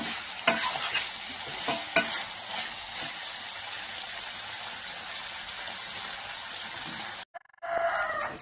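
Onions fry on low heat while being stirred for a liver fry, a steady close sizzle with occasional sharp spatula knocks against the pan, briefly cutting out near the end before resuming.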